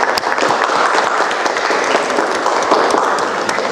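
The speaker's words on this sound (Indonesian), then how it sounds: "Beri aplaus." Steady applause from a classroom of students fills the room, dense continuous clapping at a fairly loud level throughout with no talk over it.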